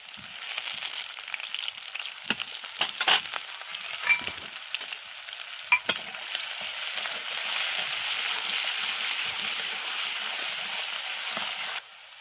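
Chopped beans fry in a pan while being stirred, giving a continuous close crackling sizzle dotted with sharp spoon scrapes and taps early on, then a steadier hiss that cuts off abruptly near the end; no voices.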